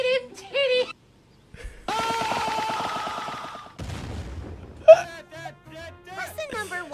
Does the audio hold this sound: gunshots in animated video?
yes